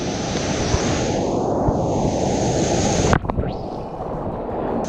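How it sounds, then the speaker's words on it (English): Strong ocean waves at Huanchaco, Peru, churning while someone surfs, a steady roaring wash mixed with wind buffeting the microphone, with a brief jolt and slight drop in level around three seconds. "They're pretty strong, the waves today."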